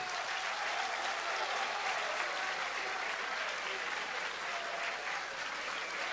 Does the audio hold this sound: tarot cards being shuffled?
no